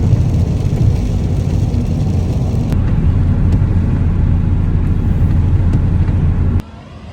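A car on the road, heard from inside: a loud, steady low rumble of engine and tyres with a few faint clicks, dropping quieter just before the end.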